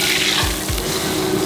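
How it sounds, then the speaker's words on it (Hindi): Cumin seeds sizzle in a hot butter and ghee tempering for dal makhani in a restaurant kitchen, a close, steady hiss with a brief scrape of stirring and no voices. "ये जीरे का तड़का आ गया"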